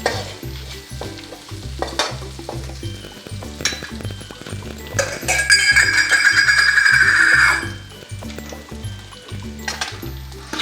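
Coconut pieces and halved dried red chillies roast in a pan for mutton chukka, with a steady sizzle under repeated scraping and stirring strokes. The frying grows louder midway, then settles back to rhythmic stirring.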